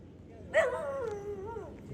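A single dog's whining yelp rises and bends over a second, fairly close, against a quiet background.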